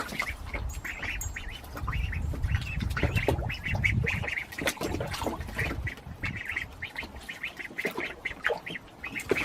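Several young ducklings quack and peep in quick, overlapping bursts, close and busy throughout, with scuffling and handling noises underneath and no talking.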